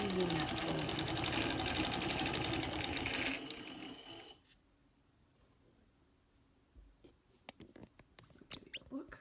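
A sewing machine quilts a wavy border, its needle running in a rapid, loud, even patter for a few seconds before stopping, followed by quiet handling noises and light taps of fabric.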